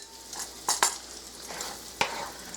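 Crisped bacon frying in its grease in a pan, a quiet steady sizzle with a few sharp scrapes and clinks of a utensil, close and without talk.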